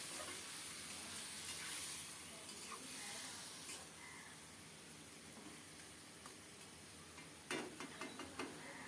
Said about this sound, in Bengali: নেড়ে চেড়ে ফোড়নের সাথে মাংসটা মিশিয়ে দেব